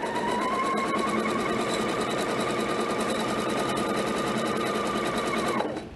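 A sewing machine runs steadily as it zigzag stitches along a length of ribbon, close and continuous with a whirring hum, then stops at the end.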